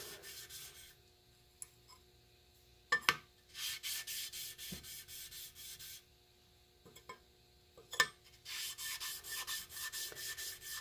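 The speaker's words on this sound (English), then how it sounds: "on the back of the blade you normally get a burr. Rub that off." Hand rubbing to remove the burr from the back of a jointer/planer blade, heard as short bursts of dry, hissy scraping separated by pauses, with a couple of sharp clicks between strokes, fairly faint and close.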